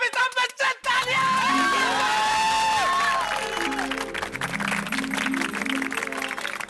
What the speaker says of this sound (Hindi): अरे श्री अमिताभ बच्चन तालियां!